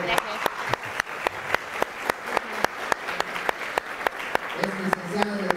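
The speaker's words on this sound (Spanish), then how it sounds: "Un aplauso para darle la bienvenida" An audience at an informational talk on Japanese government scholarships applauds to welcome a guest speaker, a steady, moderately quiet patter of clapping with a few sharper claps standing out and faint voices underneath.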